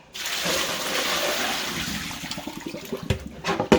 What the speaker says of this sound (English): Suppose I could just pour this over.